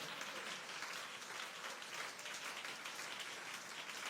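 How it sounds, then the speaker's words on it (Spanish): A church congregation applauds during a Sunday-morning worship service, a dense, even patter of many hands clapping at a moderate distance, sustained throughout with no speech over it. "Fuerte ese aplauso al Señor esta mañana."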